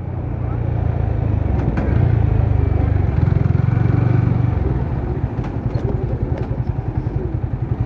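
A modified Yamaha R15 V3 motorcycle with stock exhaust revs hard in first gear, a loud close engine roar that rises, holds, then drops into a rapid pulsing idle with popping crackles.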